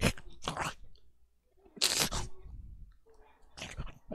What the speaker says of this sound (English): crunch and a tear. Sounds like something is eating very messily.